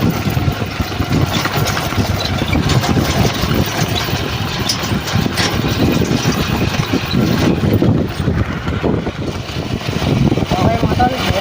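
Motorcycle engines idle together in the evening, a loud continuous rough rumble with uneven pulsing, voices talking underneath.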